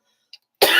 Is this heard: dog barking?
no